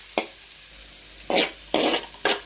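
Onions and tomato paste are sautéed in a pan, heard as four short, close scraping stir strokes with brief sizzling bursts and quiet pauses between them.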